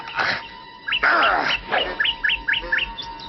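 A cartoon bird in a classic animated Tom Sawyer adaptation chirps loudly, mixing a few harsh rustling bursts with a string of quick, evenly spaced tweets that continue to the end.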